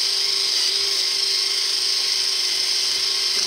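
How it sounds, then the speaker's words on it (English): A power drill stripping old paint from an engine cylinder head whines at a steady high pitch, continuous and close, grinding without pause for the whole stretch. "I'm just going to take this drill and"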